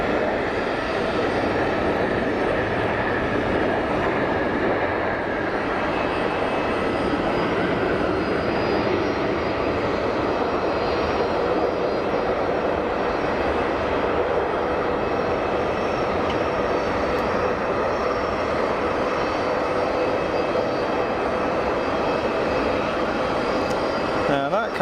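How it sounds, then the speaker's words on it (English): A Boeing 787 Dreamliner landing at Geneva Airport, heard as a steady, broad jet roar from a distance that holds level and unbroken throughout. "I estimate that Dreamliner touched down around about the same point as the A220s"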